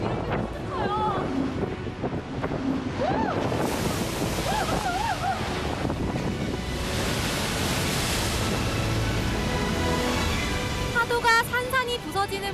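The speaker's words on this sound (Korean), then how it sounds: "이 바위 구멍틈으로 파도가 공기처럼 이렇게 솟구쳐요." Ocean waves surging through a narrow rock blowhole on an Australian coast, loud continuous roar and wash of surf with wind buffeting, occasional bursts of spray.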